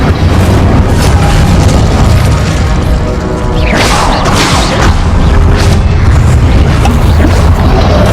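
Spell blasts of Confringo and Incendio in Hogwarts Legacy boom over a constant loud roar, with bursts and crackling flares rising around the middle and end; no voice is heard.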